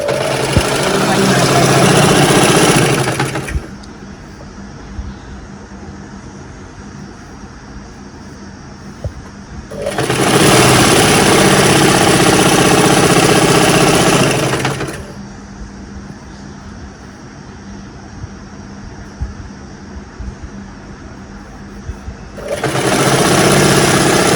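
Sewing machine stitching a saree into an anarkali dress, with loud whirring bursts of stitching lasting several seconds each, broken by quieter pauses, heard close up.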